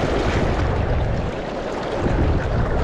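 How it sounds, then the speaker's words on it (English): The fast current of the Madison River in Montana rushes as a broad, steady roar of water, dense and constant, mixed with gusty wind noise buffeting the microphone. "Just current is ripping."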